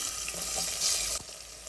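Onions and green chillies for egg biryani sauté in a pan with a close, hissing sizzle that cuts down abruptly partway through, leaving a quieter fry; no talking.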